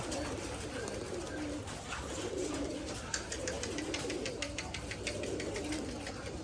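Giribaz high-flyer pigeons coo steadily at a farm of around 500 birds, a dense, continuous chorus of overlapping soft calls with faint rustling throughout.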